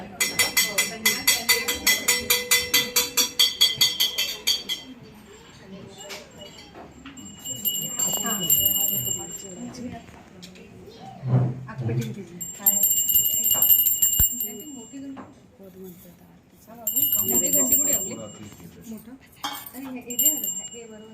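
A temple-style hand bell rings fast and bright for about five seconds during an aarti before the Swami's padukas at a family home in Thane. It fades out, and devotional singing and voices carry on, with a few light clinks.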